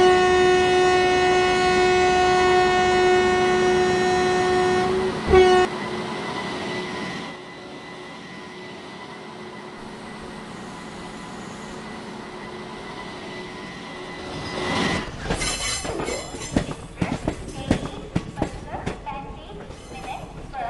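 A train horn sounds with a sustained tone, then a superfast express train rolls into a station platform with rising rattling and clattering of wheels over rails, fairly close.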